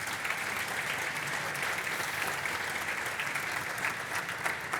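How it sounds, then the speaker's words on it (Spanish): Audience applause welcoming a guest to a panel on artificial intelligence in fitness and gyms, an even wash of clapping from a seated crowd, moderately soft and steady throughout. "Por favor, les pido un gran aplauso para él."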